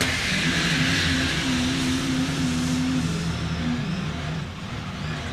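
Racing powerboat engines of the Super Cat class roar loudly and steadily off Key West, a dense continuous drone with a low throbbing hum that eases slightly near the end, with no talk.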